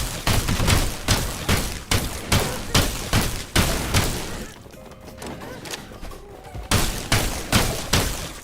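A gun fired in the extraction shooter game Sulfur: loud, close shots in a steady rapid rhythm, about two or three per second, with a short lull midway before the firing resumes at the same pace.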